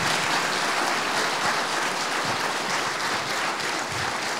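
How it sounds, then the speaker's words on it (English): An audience at a keynote speech at an open source conference breaks into dense, sustained applause, many hands clapping together in a steady loud wash from start to finish with no voices above it. "A round of applause for these guys."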